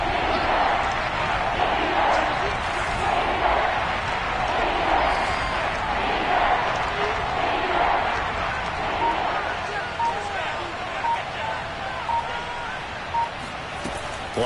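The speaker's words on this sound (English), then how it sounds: "the crowd getting into it as we come up on a big 3rd down" A stadium crowd at a football game keeps up a steady, dense roar of cheering and babble throughout, with a commentator talking over it.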